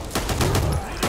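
Rapid bursts of gunfire in the co-op zombie shooter Back 4 Blood, loud close shots firing in a quick repeating rhythm over a dense, noisy game background.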